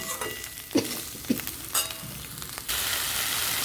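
Potatoes and plantains frying with spices in a pan, a steady sizzle broken by a few sharp stirring scrapes, then a louder, continuous hiss of oil near the end.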